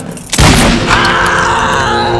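Gunfire in a film scene, opening with a loud, close boom that hangs on in a dense, rumbling tail of reverberation, with a grunting vocal texture mixed in.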